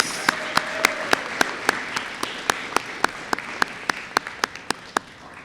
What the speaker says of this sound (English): Let's give Miss Tollickson's homeroom a big round of applause